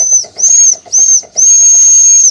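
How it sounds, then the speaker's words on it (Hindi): An old steam train whistle from a small steam locomotive: three short shrill blasts, then one long sustained blast, loud and close, over a steady hiss and rhythmic chuffing. "ट्रेन की जो पुरानी सीटी है"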